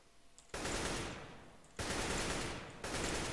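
Three sustained bursts of automatic AK rifle fire in Counter-Strike: Global Offensive while strafing, each starting sharply and trailing off, loud and close with short gaps between them.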